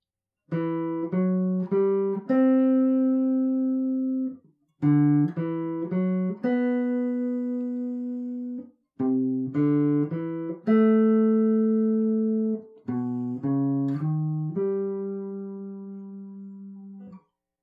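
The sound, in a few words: guitar playing opening melody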